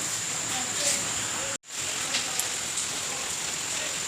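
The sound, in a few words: heavy rain falling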